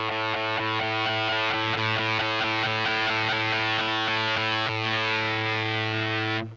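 An electric guitar runs through a Shoneswood Mean Prick overdrive pedal and breaks up into a gritty, distorted tone. A sustained chord rings loud and dense for about six seconds and then cuts off abruptly, with no voices.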